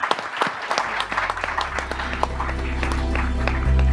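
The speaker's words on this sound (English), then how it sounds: "we can just give everyone a quick round of applause" A quick round of applause from an audience at a partnership marketing talk, scattered claps that thicken into steady clapping while a low musical hum swells underneath.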